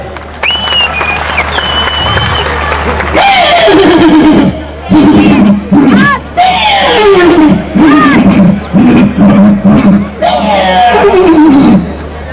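A person imitates a horse neighing, a series of loud whinnies with falling, quavering pitch, repeated several times with short pauses between them.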